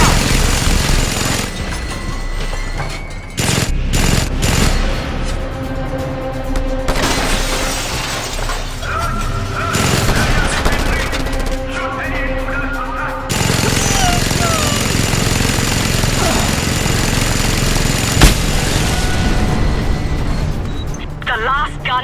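Just Cause 2 gunfire and explosions as a gun emplacement is destroyed, with loud bursts, shattering crashes and sustained rumbling under intermittent game voices, continuing for over twenty seconds.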